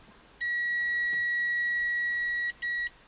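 An electronic beeping alarm from a Kubota 5740 tractor's inclinometer: one long steady high-pitched tone lasting about two seconds, then a short repeat, clear and close with no talking.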